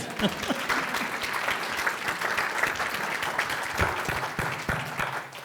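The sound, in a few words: audience applause for microphone runners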